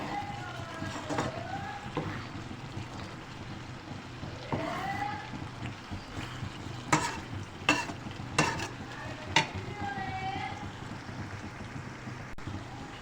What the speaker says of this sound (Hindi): अब मैं तकरीबन 5 मिनट तक इसकी और भुनाई करूँगी।